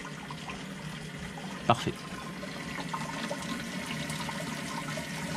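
Water trickling and running into a plastic jug through an outdoor U-shaped siphon on an aquaponics tank, a steady liquid flow with a couple of brief knocks, and a voice speaks a single word.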